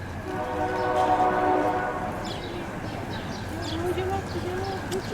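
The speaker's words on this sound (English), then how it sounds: "The old train's going by." An old train rolls past during a community day in Le Grand, its horn sounding in a sustained blast at moderate distance over a low rumble, with faint chatter in the background.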